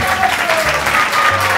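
A television studio audience bursts into loud, dense applause, a steady wash of clapping heard close for the whole moment, with a few faint voices mixed in.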